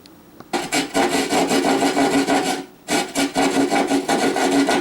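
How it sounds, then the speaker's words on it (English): A hand drywall saw cuts through drywall for an old-work electrical box, making close, loud, rhythmic rasping strokes in two bursts separated by a brief pause, with no talk. "So you can see with the drywall saw, you get a really nice exact cut."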